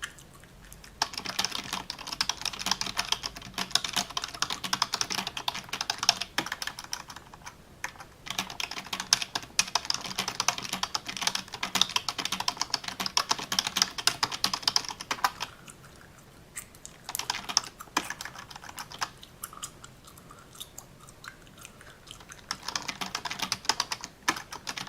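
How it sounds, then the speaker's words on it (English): Rapid typing on a computer keyboard runs close and clear in fast bursts of clicky keystrokes, broken by short pauses, with faint gum chewing underneath. "hopefully y'all don't mind this typing noise because it is kind of ASMR"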